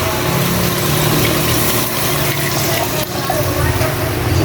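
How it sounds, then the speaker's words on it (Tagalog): Water poured into a cooking pot of sautéed carrots and chayote for Filipino chicken vegetable soup, a loud continuous rushing splash filling the whole stretch, with faint voice in the background. "Lagay tayo ng tubig."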